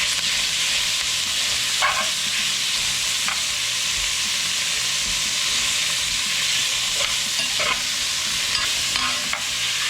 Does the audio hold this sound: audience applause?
no